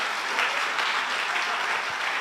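A congregation claps together during a Sunday church worship service, a dense, steady wash of applause held at even loudness from start to finish with no voices above it.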